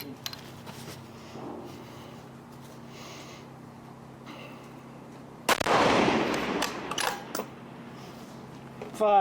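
A single sharp rifle shot cracks loudly midway through a quiet F-Open shooting match, its report ringing out and trailing off, with faint background noise before it and a short burst at the end.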